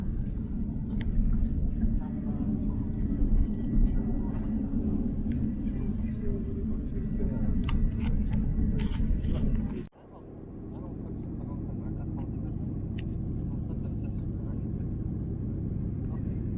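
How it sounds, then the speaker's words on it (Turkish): A heavy, steady roar of a China Eastern Airlines plane taking off from Shanghai fills the cabin, then the rumble briefly drops and settles into a quieter continuous drone. "Ve uçağımız havalandı."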